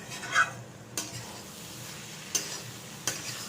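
A potato curry sautés in a pan with a low, steady sizzle, broken by several distinct spatula scrapes and taps against the pan at uneven intervals.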